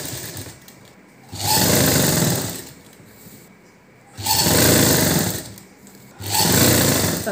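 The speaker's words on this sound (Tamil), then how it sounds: "தச்சு ஒரு தையல் போட்டு முடிச்சாச்சு." A sewing machine stitches the sleeve seam of a close-neck blouse in three loud, close bursts of rapid needle chatter, separated by short quiet pauses.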